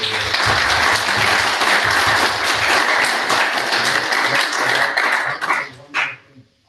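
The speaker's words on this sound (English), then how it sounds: "I promised the candidates that they should get a round of applause" A meet-the-candidates night audience applauds the candidates, steady loud clapping for about five seconds before breaking into a few scattered claps and fading out.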